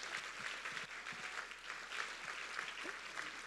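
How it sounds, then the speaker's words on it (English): Faint, distant applause from an audience at a philanthropy event in Palm Beach County, a thin steady patter of scattered claps heard from afar in a quiet room. "how about a round of applause for our alumni change makers in the lobby"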